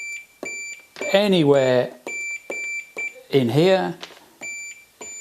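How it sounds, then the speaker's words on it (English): A small continuity meter touched to the corners of an electrically conductive plane during a router upgrade gives several short, high, clear beeps, interleaved with someone talking nearby. "if I go corner to corner, that should beep"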